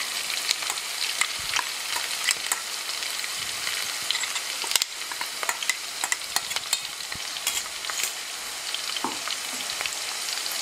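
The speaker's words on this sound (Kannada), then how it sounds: "ಇದನ್ನು ಸ್ವಲ್ಪ ಹಸಿ ವಾಸನೆ ಹೋಗೋರಿಗೆ ಹುರ್ಕೋಬೇಕು." Ground mustard, garlic and spice masala fries in a pan with a steady close sizzle, broken by frequent scraping and clinking strokes as it is stirred, no voices.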